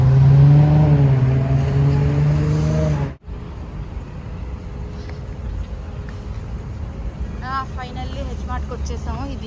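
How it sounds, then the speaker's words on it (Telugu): Road traffic in Fairfax, USA, a loud engine drone up close that cuts off abruptly, followed by a steady hum of passing vehicles with voices heard faintly over it. "చూడండి ఎంత ట్రాఫిక్ ఉందో"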